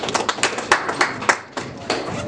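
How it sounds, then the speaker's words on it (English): Audience at a press briefing ahead of the African Athletics Championship claps together, a brisk crowd of hands with distinct sharp slaps standing out, rising and dipping in short waves for a couple of seconds. "I need you to applaud yourselves"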